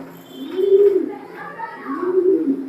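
Racing pigeons coo close by, two soft, low throaty rolling calls a second or so apart, with faint background chatter.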